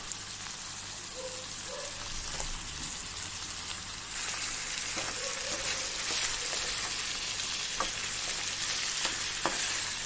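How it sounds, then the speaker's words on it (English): Steady, close sizzling and crackling of chicken frying in soy sauce in a pan, with occasional stirring clicks and scrapes, no voices. "I'm going to add in the chicken, and I'm going to fry it in the sauces for some time"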